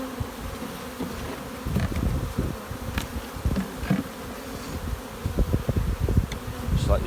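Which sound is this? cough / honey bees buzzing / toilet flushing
honey bees buzzing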